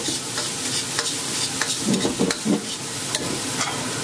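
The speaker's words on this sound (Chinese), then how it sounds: "下姜末、蒜末、洋葱、红椒粒炒出香味，勾入少许的明油稍许翻炒" Ginger, garlic, onion and diced red pepper are stir-fried in a wok with a low sizzle. A spatula scrapes and tosses repeatedly, with a cluster of thicker stirring sounds near the middle. No one talks.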